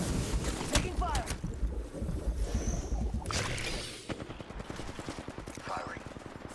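Gunfire in the battle royale game Apex Legends: rapid bursts of shots crackle close and fairly loud, mixed with rushing noise and in-game voice lines.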